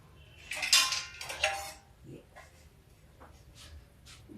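A metal tawa griddle pan is set aside on a home gas stove, giving two bright metallic clanks close up, followed by a few faint scrapes and taps in a quiet kitchen.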